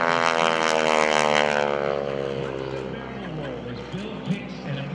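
Propeller airplane flying at the Blue Angels homecoming airshow, a loud droning engine with a falling pitch as it passes, fading steadily, with a voice talking over it.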